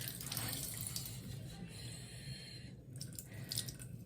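Water runs slowly and steadily from a tap while someone waits for it to turn hot, a constant close hiss and trickle with faint drips and no talking.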